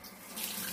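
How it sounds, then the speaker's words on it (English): Water runs steadily from a kitchen tap as hands are washed, a brief continuous broadband splash that grows louder halfway through, with no talking. "Then, wash my hands."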